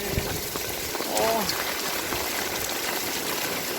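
Heavy rain pours steadily during Typhoon Noru, a dense, continuous hiss filling the whole scene, with a person talking briefly over it.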